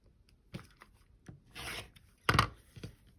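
Scissors cutting through stitched quilting cotton along a marked line, a few short close snips and a longer rasping slice, quiet and intermittent with pauses between cuts.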